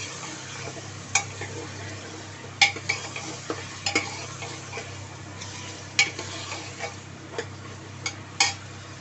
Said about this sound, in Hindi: ये गोश्त डालते हैं, इसको डाल के थोड़ा भूनेंगे।